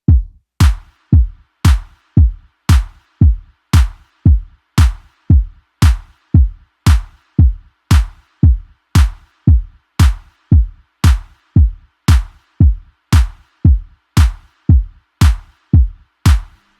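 An EQ'd electronic drum groove with kick, snare and clap hitting together, a punchy four-on-the-floor pattern of sharp, loud, evenly repeating beats lasting throughout, with no voices.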